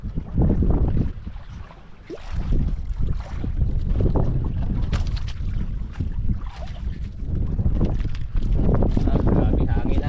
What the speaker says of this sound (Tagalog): Grabe hangin na.